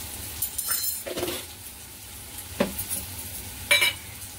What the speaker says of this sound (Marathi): आता चांगलं फ्राय करायचं